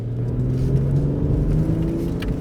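A BMW 840i Gran Coupe's engine and exhaust hum in a steady, smooth low drone under light acceleration, heard from close by with a continuous rumbling tone and no talking.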